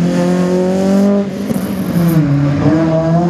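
A Group N rally car attacks a slalom course at Saint-Lô in 2018, its engine revving hard near by, dropping briefly as it shifts, then climbing and wavering in pitch again.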